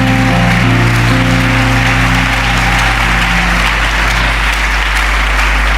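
A church congregation claps in praise after a prayer, a dense, steady wash of hand claps over a low sustained hum and organ-like tones, continuous for the whole stretch.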